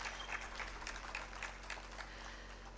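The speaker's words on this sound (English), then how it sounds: "another round of applause for His Excellency" Faint, distant round of applause at a Sahel food systems conference for a dignitary, a soft continuous patter of many hands over a steady low hum.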